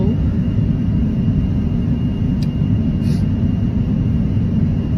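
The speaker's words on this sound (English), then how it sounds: "enjoy the soothing sounds of this airplane ride back" Steady, loud broadband roar of airplane engines heard from inside the cabin during flight, a constant low rumble with no breaks and a couple of faint high clicks.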